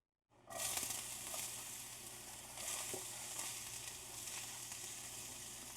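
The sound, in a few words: onions frying in olive oil in a hot pan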